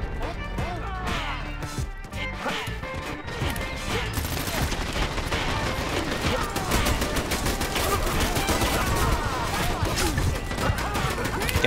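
Dense bursts of video game gunfire, rapid overlapping shots and crackling fusillades continuing steadily throughout, loud and close, with voices talking over it.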